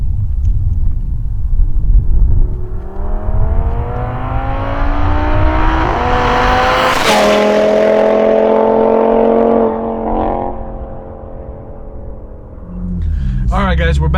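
A Stage 2 Audi RS3 running on E85 accelerates hard from inside the cabin, its engine rumbling and climbing in pitch through the gears with a sharp shift, then easing off before building again, loud and close throughout.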